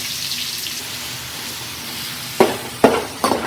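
Small onions (shallots) frying in a pan for a traditional Mangalore-style dish: a faint, soft sizzle broken near the end by three louder bursts of stirring and scraping.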